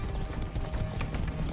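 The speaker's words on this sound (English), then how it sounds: "That's a good horse." Rapid, steady galloping hoofbeats of a horse in the video game Far Cry 6, loud and close, with a faint whinny briefly mixed into the pounding rhythm.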